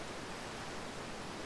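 Steady broadband hiss from a fan, like white noise, filling the background at an even low level with no talk over it.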